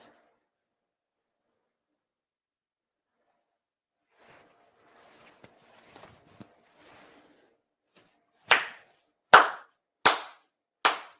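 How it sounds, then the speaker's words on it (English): Four sharp ritual hand claps at a Shinto autumn memorial ceremony, evenly spaced and crisp after a long hush with faint rustling. "4 sincere claps"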